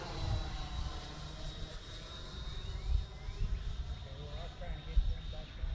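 A Freewing 80mm 12-blade EDF Avanti S model jet makes a dirty flyby with flaps down, a steady whooshing ducted-fan whine with a thin high tone that swells and fades at moderate distance, under people talking outdoors.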